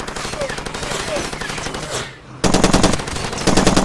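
Sustained machine gun fire in Far Cry 2, dense rapid rattling bursts that briefly dip, then resume louder and closer from more than one gun.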